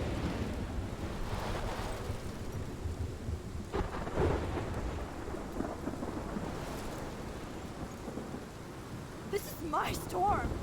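A thunderstorm rumbles in the video game Life is Strange Remastered: steady rain and low rolling thunder, with a faint louder crackle near the end, heard moderately quiet without foreground voices.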